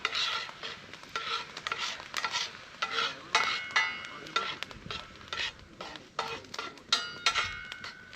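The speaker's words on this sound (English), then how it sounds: "onions sit in that and caramelise" Onions caramelising in a pan set straight on hot coals, with a soft steady sizzle broken by repeated scraping stirs of a utensil against the pan, close and moderately loud, no voices.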